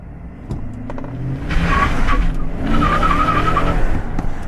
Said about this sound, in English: You can really spin your tires in this.